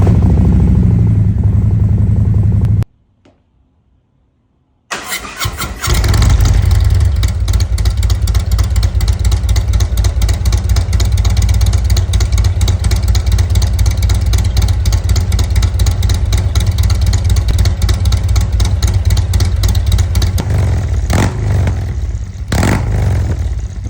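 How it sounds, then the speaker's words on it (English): A performance motorcycle bagger fitted with Fuel Moto Jackpot exhaust mufflers runs close and loud, a deep steady rumble with pulsing revs, broken by a brief cutoff of about two seconds before the engine roars back on. "So then we added Fuel Moto's Jackpot exhaust system mufflers. And these things are beasts. They sound great"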